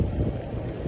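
Steady wind rushing and buffeting across the microphone, a continuous low roar with no pauses.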